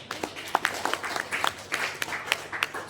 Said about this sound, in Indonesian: kita beri aplaus kepada pengurus inti